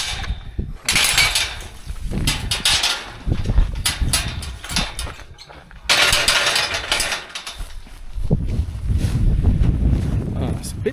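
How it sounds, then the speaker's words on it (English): Gusty hilltop wind near a trig point buffets the microphone in rough, uneven bursts, loud and close, with a voice speaking faintly underneath. "bit more windy up here."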